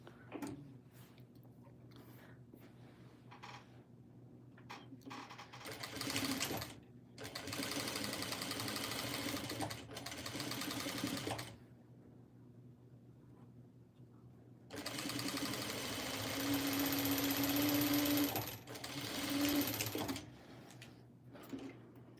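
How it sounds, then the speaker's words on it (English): A sewing machine runs a quilt seam along a one-inch line in rapid, steady stitching bursts, several seconds each, separated by quiet pauses, close and fairly soft. "I'm going to sew this from here to here, and we're going to sew it right on that 1-inch spot again"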